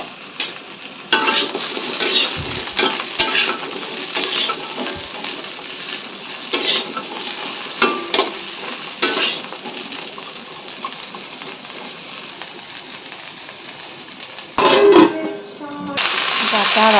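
Vegetables stir-fried in a pan, with pumpkin greens going in, sizzle in uneven bursts broken by utensil scrapes and clinks against the pan, with a louder spitting flare near the end.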